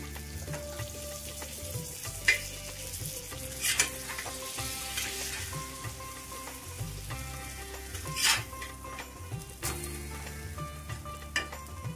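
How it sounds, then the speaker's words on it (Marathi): Steady frying sizzle of butter with occasional clinks and scrapes of a utensil on a hot griddle, close and moderately loud, no talking. "थोडंसं बटर टाकते मी"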